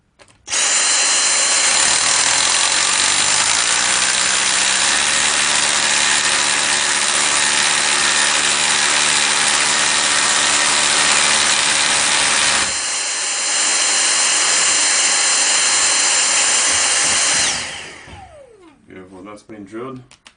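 A power drill drills into a ceiling, running loud and steady for long stretches, briefly dipping in pitch midway, then cuts off, leaving a short quieter tail with faint movement.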